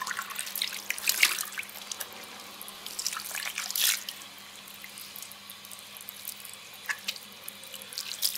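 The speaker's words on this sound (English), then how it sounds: "And then I just rinse off my face." Tap water runs steadily into a bathroom sink while a face is rinsed, with splashes and drips breaking over the flow, close and fairly soft, and no voices.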